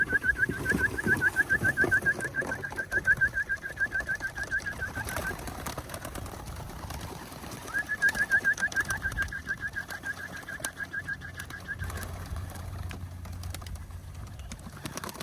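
Outdoor pigeons during training, with repeated fluttering bursts of wingbeats and soft cooing in two spells over steady ambient background noise.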